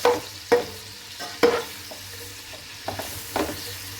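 Chopped onions frying in a pan for chicken pulao, a soft sizzle with several sharp stirring scrapes spaced a second or so apart, close and moderately loud.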